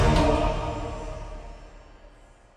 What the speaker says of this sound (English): left a natural tail of the reverb or the cymbals or whatever instruments